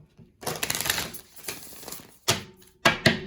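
Oracle cards are riffled and shuffled close up, producing bursts of crisp, papery flutter followed by two sharper quick shuffles, with no talk.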